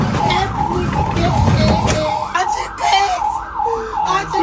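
An ambulance siren wails in rapid, repeating up-and-down sweeps, loud and close, with scattered voices over it at the start.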